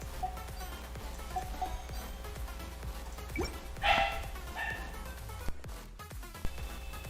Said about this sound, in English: Who wouldn't be angry listening to someone else's dog be noisy while you're doing something important?